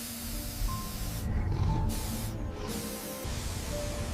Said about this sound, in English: The rescuer aims the spray at the python's head.